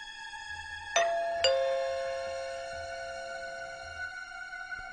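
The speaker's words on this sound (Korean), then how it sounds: "집에 도착해서는 초인종을 누르니 아무런 반응이 없었습니다." Two-tone ding-dong doorbell chime, a clear pair of strikes whose bright tones ring and slowly fade over faint background hum, alone with no talk.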